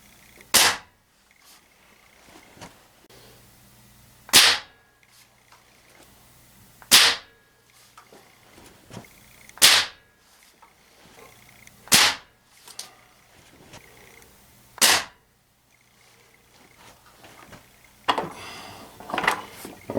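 Ruger Air Magnum .177 air rifle firing RWS Hobby 11.9 grain pellets, seven sharp, loud cracks spaced about two to three seconds apart, with quiet handling noise and a short rustle between shots.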